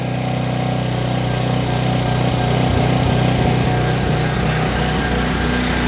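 Trash-picked Craftsman 5600 watt generator engine running with the choke fully off, a loud close small-engine drone with a steady throbbing hum that wavers slightly before settling, heard alone.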